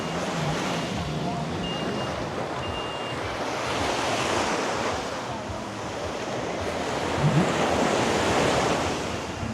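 Sea waves break and wash steadily along Lamai Beach on Koh Samui, a broad continuous surf roar with wind buffeting the microphone and a slight swell in loudness near the end, with no voices.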